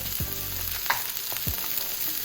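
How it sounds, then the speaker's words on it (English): Steady sizzling and frying from chicken breast in a hot skillet, a constant crackling hiss with a few scrapes and light knocks. "You wanna hear that sizzle when you put that chicken on in there."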